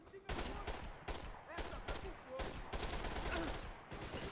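Rapid bursts of gunfire in the game Max Payne 3 crack out in dense, repeated volleys for several seconds at steady loudness, with a voice speaking faintly beneath the shooting.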